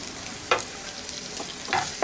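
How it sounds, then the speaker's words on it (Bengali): Chopped garlic, ginger and green chilies stir-frying in refined oil, a faint hissing sizzle punctuated by a few quick metallic scrapes of the spatula, close and quiet with no talk. "এগুলোকে একটু নেড়ে নিচ্ছি 1-2 মিনিট।"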